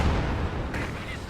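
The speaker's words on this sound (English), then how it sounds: "Katusha bombarding this area" Katyusha rocket artillery bombards an area in a Soviet-versus-US wartime strategy game, a dense rumbling roar of salvo impacts that fades slightly over the short stretch, heavy and low.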